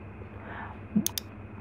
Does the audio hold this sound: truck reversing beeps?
no